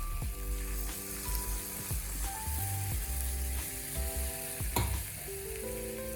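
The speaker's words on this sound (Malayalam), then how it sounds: "അതിൽ നമുക്ക് രണ്ടാം പാല് ആദ്യം ഒഴിച്ചു കൊടുക്കാം" Brinjal curry frying and sizzling in a pan as thin coconut milk is poured in, a close bubbling hiss with light stirring, no talk.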